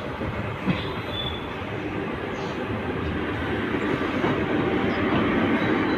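Indian passenger train hauled by a WAP-4 electric locomotive, Bundelkhand Express, heard from inside a general coach: a steady, loud rumble of running wheels and carriage noise with faint rail clatter throughout.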